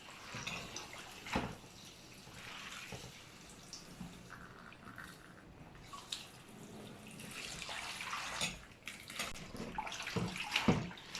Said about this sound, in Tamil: இது 3வது தண்ணி ஊற்றி நான் அலசிட்டுருக்கேன்.